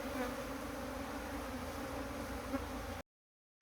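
A honeybee colony, taken from a termite-eaten dead roadside tree, crowds into a box after its queen, making a dense, steady buzz of many bees up close that cuts off abruptly.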